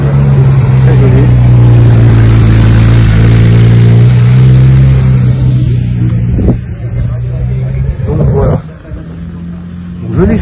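A Porsche's engine hums loud and close with a steady deep drone at Place Vauban, then fades as the car moves off, leaving street noise and a few sharp knocks.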